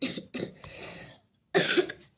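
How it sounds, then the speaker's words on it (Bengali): A person coughs several times, short harsh bursts in quick succession, then a pause and one more close, loud cough. "কার কার কাশি হচ্ছে এবছরে?"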